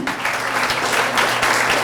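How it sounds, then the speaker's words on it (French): Brief burst of audience applause at an oyster-shucking competition event in Charente-Maritime, steady dense clapping from a crowd, fairly close and even in loudness. "Vous pouvez applaudir cette Cité de l'Huître"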